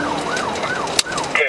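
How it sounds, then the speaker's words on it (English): A police car siren wails up and down in repeated sweeping cycles, loud and close, with a brief sharp click partway through and the tone shifting near the end. "The driver of the Infinity, ignoring Deputy Strickland's lights and sirens, continued a reckless journey throughout the"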